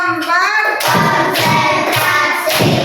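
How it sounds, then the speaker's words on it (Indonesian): A class claps in a counted rhythm with a teacher during a classroom lesson, loud close claps landing in regular groups after a brief spoken lead-in. "untuk semangatnya tepuk 1, tepuk 2, tepuk 3, tepuk 4"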